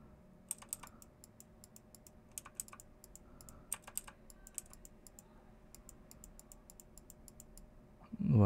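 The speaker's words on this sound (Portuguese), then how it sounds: "Vou dando vários cliques aqui, tá?" Mouse clicks while editing a photo in Photoshop: sharp, quiet clicks in scattered bursts and quick clusters against a soft room hiss, with a louder burst at the very end.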